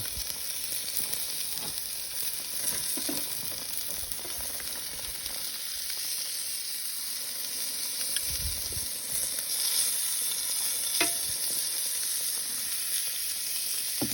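Picanha beef sizzling steadily on a winter barbecue grill after being flipped, a constant close hiss and crackle with occasional pops, no talking.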